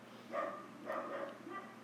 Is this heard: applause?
no